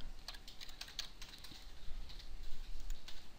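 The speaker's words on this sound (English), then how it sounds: "So I'm going to just type in width" Quiet, rapid keystrokes on a computer keyboard, a close, uneven run of light clicks with soft clacks, alone for a few seconds.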